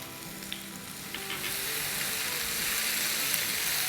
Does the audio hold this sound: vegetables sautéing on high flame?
yes